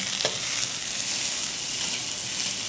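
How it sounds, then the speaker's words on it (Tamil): Carrot, onion and green chili sautéing in a pan: a steady, close, hissing sizzle with faint stirring scrapes, continuous and unbroken. "கொஞ்சம் வதக்கணும்."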